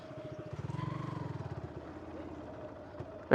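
A motorcycle engine chugs in a pulsing rhythm on a rough, broken road, swelling then easing off. A clunk is heard near the end.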